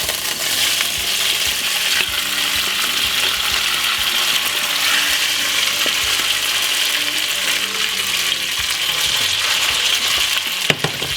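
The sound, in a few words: frying vegetables for stew sauce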